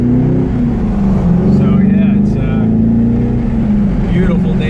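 A 2004 C5 Corvette drives around the block on a windy day, its engine a steady close droning rumble throughout, rising and falling slightly as it moves, with voices talking over it.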